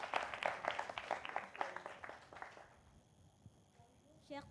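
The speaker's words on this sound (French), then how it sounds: "On applaudit." An audience applauds a candidate at a French hosting contest. A burst of clapping and voices fades after a few seconds into quieter room noise.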